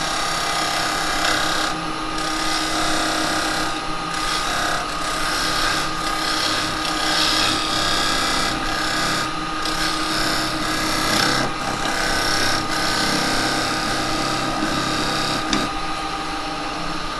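A square carbide chisel cuts cherry wood on a spinning lathe, giving a continuous loud scraping rasp with periodic surges as the tool works, over the hum of the lathe motor.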